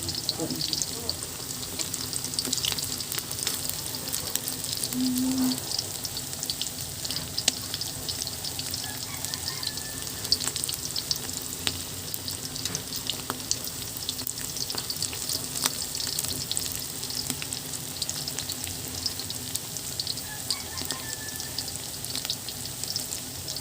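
Small fish omelette, tortang tugnos made with onion, garlic and pepper, frying in hot oil with a steady, close sizzle and occasional stirring, running continuously without talk.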